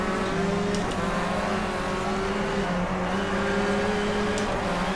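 A Renault Clio Cup race car engine in the racing game Game Stock Car Extreme drones at steady high revs with shifting harmonic tones, loud and continuous throughout, no talking.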